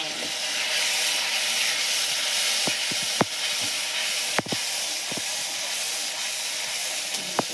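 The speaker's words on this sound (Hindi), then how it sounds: "अब मैं डालूंगी मसाला" Masala spices sizzle in hot oil with frying onions, a steady broad hiss that holds through the clip, broken by a few sharp clinks of a spoon or pan.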